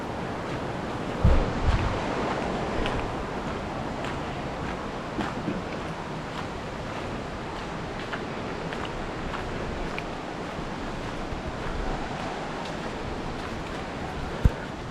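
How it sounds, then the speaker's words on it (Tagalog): River water flowing near Taytay Falls in Majayjay, Laguna, a steady broadband rush with faint splashes and occasional wind buffeting the microphone, continuing unbroken for the whole stretch. "Ito yung karugtong ng ilog."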